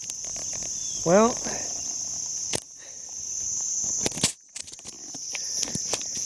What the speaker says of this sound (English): There must be a nest of them right there or something. They're all buzzing around.